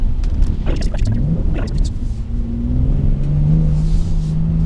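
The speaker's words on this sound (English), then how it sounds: "That sound of this engine is a thing of beauty." A BMW X3 M40i engine rumbles under steady driving, with a low droning note that rises and holds through the middle and end, accompanied by broadband road noise and a few faint higher-pitched bursts.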